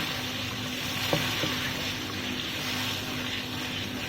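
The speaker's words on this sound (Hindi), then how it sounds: "इसमें पानी डालेंगे ताकि मसाला अच्छी तरह से गल जाए" Masala for turai and chana dal simmers in a pan just after water is added, a steady close sizzle and bubbling with a couple of faint stirring knocks, no talk.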